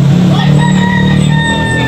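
At a rooster market in Tabunok, Talisay, Cebu, a red fighting cock crows loudly and close by in one long drawn-out call over a busy background hum.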